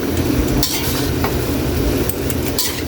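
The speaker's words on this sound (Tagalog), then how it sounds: "Ikos muna natin." Sotanghon guisado with Baguio beans stirred in a pan, a continuous close sizzle of frying with scraping of a utensil against the pan and a few brighter clinks.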